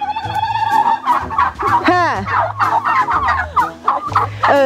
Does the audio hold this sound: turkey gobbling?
yes